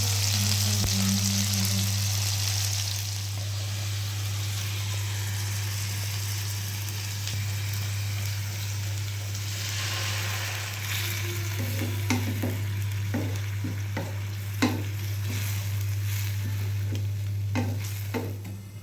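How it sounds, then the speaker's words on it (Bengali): Prawns fry and get stirred in a pan with a steady, close sizzle over a constant low hum. Sharper scraping and stirring knocks come in repeatedly toward the end. "সবগুলো চিংড়ি একসাথে দিয়ে দিলাম, হালকা একটু ভেজে তারপর ভুনাটা করে দেবো।"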